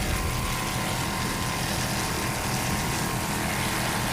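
A 26-foot Velocity offshore racing powerboat at the 2002 Marathon Grand Prix gives a loud, steady, unbroken engine roar that holds for several seconds, with no voices over it.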